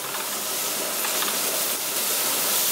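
Zucchini and egg sabzi stirred in a hot pan over high heat, giving a loud, steady, close hiss with no pauses.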